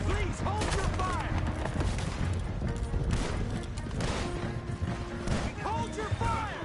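Gunfire in Red Dead Redemption 2 sounds as repeated sharp shots and bangs in a chaotic battle, with voices talking and shouting in between.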